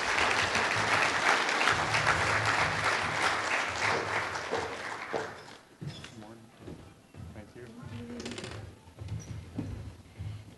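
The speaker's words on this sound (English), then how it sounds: "Would you give me a round of applause" Audience applause fills a school-community event honoring education alumni, loud and sustained for about five seconds before fading into scattered claps and murmuring voices.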